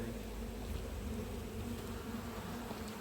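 Honey bees swarm and buzz around an opened hive during an inspection, a loud continuous drone with a steady low hum and no pauses.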